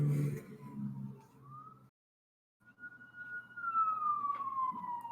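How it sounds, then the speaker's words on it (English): A wailing emergency siren sweeps up and down in pitch, heard from a distance, cutting out briefly before returning and carrying on steadily over a low background rumble. "Yeah, sirens for you."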